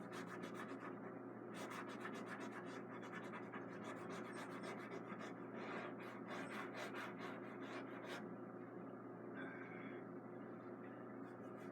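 A cotton Q-tip rubbing over a painted canvas, heard up close as a continuous dry scratchy rasp with quick back-and-forth strokes and slight rhythmic variation, no voices over it.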